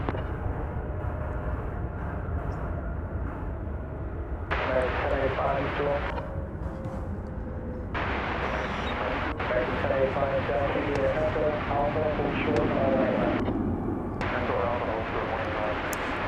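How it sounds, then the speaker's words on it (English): An American Airlines Boeing 737-800 jet at DFW Airport gives off a continuous broad roar of engine rumble that rises and falls as it passes, with voices at times over it. "That was American Airlines Flight 1085 from McAllen, Texas, 737-800."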